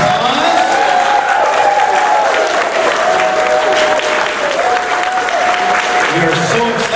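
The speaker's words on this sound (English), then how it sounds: "Give them a round of applause." Sustained audience applause at a Sesame Street Q&A panel in Niagara Falls as Carroll and Deb Spinney come on stage, a dense, steady wash of clapping through the whole stretch with a held tone running beneath.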